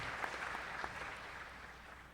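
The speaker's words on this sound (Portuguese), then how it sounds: "Vamos dar uma salva de palmas." A church congregation applauds during a service in a dense, steady patter of clapping heard from some distance, gradually fading toward the end.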